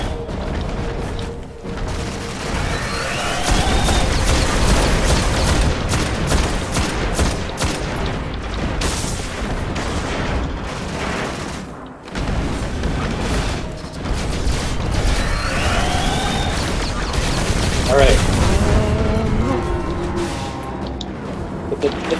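Sustained volleys of gunfire and booming blasts from the video game Destiny fill the scene almost continuously, loud and dense, with a brief lull partway through and voices talking over the shooting.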